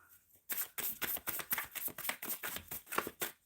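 Tarot cards being shuffled, a rapid run of crisp riffling and slapping bursts at close range, steady and fairly loud after a brief quiet start, with no talking.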